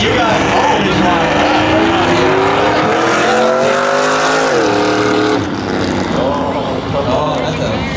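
Drag racing cars and a fast pickup truck launching at a street drags event, a loud engine note rising steadily through the revs then dropping at a shift, with crowd noise and people talking underneath.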